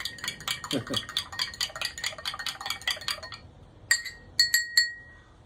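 A spoon stirs kava in a beer glass, a fast run of bright clinks against the glass that slows and stops, followed by a few separate taps near the end.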